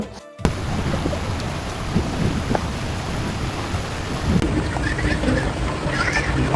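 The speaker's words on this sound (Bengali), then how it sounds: "ইফতারের পর বাইরে খুব ঝুম বৃষ্টি শুরু হচ্ছিল" Heavy downpour outdoors during a thunderstorm, a dense steady hiss of rain on surfaces with low rumbling underneath, continuous and fairly loud throughout.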